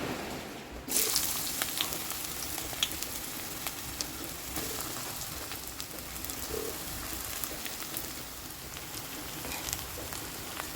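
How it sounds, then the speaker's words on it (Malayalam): Steady, heavy monsoon rain patters outside in a continuous hiss, with scattered drips and a few faint bird chirps in the background. "പുറത്ത് നല്ല മഴ പെയ്യുന്നുണ്ട്"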